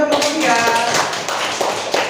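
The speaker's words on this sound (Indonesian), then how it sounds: "tepuk tangan untuk kelompok 3" Group of students clapping for a presenting group in a classroom lesson, a short burst of brisk, close claps with talk mixed in.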